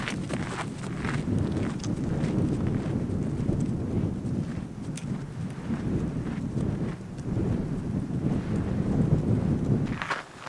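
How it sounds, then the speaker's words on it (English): Strong wind buffets a hiker on a trail in Lanzarote, a loud, continuous roaring rush that surges and eases without a break for the whole stretch. "It's so windy."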